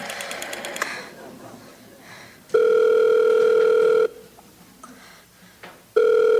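A telephone tone sounds loudly in two long steady bursts with a third starting at the end, preceded by a quick series of rapid beeps, in an old radio-drama setting while calling the operator.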